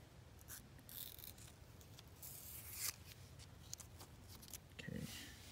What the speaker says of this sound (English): Take your knife, just gonna cut it right down the middle here.